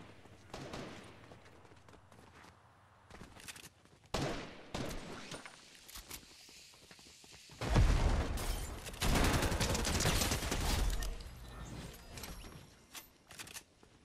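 Bursts of rapid gunfire in the video game Fortnite, clusters of sharp cracks and rattling volleys coming in loud waves with quieter gaps between, plus mechanical clicks.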